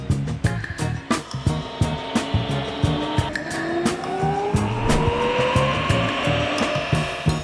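Electric motorcycle doing a tire burnout: a loud rising electric motor whine with shrill tire squeal and skidding, punctuated by sharp repeated bursts, close up throughout.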